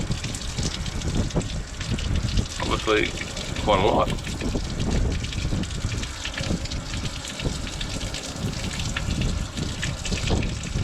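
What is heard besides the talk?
water gushing out of a drilled hole in a rusty model trawler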